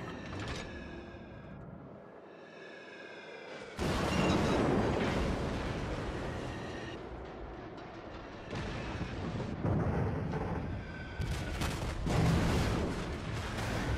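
Heavy naval gunfire from a Royal Navy battleship, Warspite, in World of Warships, with booming salvos and rumbling blasts overlapping through a dense battle soundscape, several loud bursts landing near and around.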